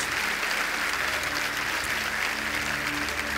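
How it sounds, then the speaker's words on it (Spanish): Congregation applauding during a church worship service, a continuous wash of many hands clapping, steady and fairly distant, with music humming underneath. "Dale un fuerte aplauso al Señor."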